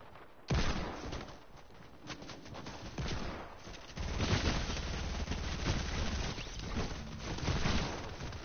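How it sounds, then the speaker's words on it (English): Hand cannon firing in a game, with a sharp blast at the start followed by dense, continuous rapid gunfire and explosions that stay loud throughout. "I have a hand cannon that propels you back."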